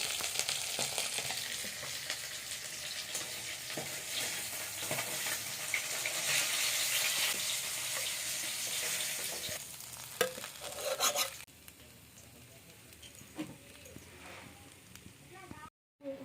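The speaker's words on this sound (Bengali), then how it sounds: "তাহলে মাছগুলো সব দিকে পুরোটা ভালোভাবে ভাজা হয়" Pieces of khoira fish frying in hot oil, a steady loud sizzle with stirring and spatula scrapes, which drops away abruptly near the end as the heat or pan is moved; a voice talks briefly over it.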